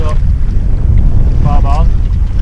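A steady breeze rushes over a solo sailboat in the English Channel, with loud constant wind buffeting the microphone and faint voice-like tones drifting through.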